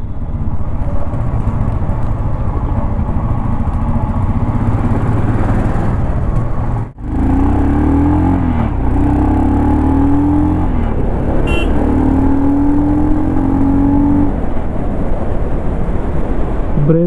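A 2025 Royal Enfield Scram 440 motorcycle being ridden, with loud continuous engine drone and wind rush, a brief dip midway followed by rising and falling engine tones as the rider shifts and accelerates.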